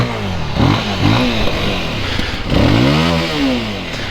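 A Voge 300 Rally motorcycle engine cranks over, fires and settles into a running idle, with a couple of sharp revving surges rising and falling close by.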